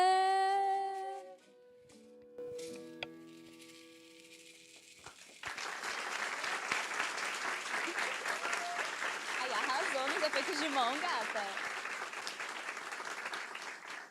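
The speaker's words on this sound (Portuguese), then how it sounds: "obrigado pelos aplausos" Audience applause at a school violence-prevention forum, rising after someone speaks briefly over a fading musical chord, then settling into sustained clapping from a room of people for several seconds.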